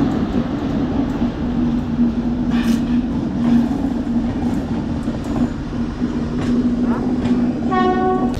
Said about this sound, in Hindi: ऐसी ट्रेन में सफ़र करना है आज।